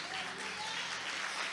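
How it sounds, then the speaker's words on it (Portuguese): A church congregation applauds in praise after prayer, a quiet, steady wash of clapping with a murmur of voices underneath. "Você pode aplaudir ao Senhor pela palavra?"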